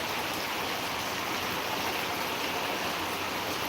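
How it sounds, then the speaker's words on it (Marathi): Constant rushing hiss of a heavy downpour in Beed, Maharashtra, loud and even from start to finish, with nothing else audible. "धनाधन पाऊस चालू आहे"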